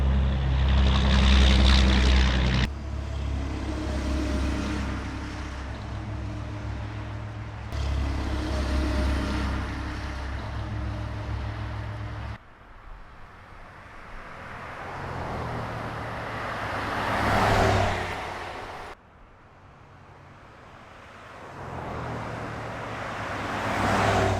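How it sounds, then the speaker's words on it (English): Cars passing by on a road, several loud whooshing pass-bys that swell and fade one after another, with steady traffic rumble between them. "let's continue on with the test with some sounds of the cars passing by"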